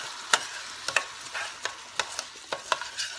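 Puerto Rican rice is stirred in a sizzling pan, with a soft, steady hiss under a series of sharp scrapes and clinks from the spoon at an irregular pace, quiet and close.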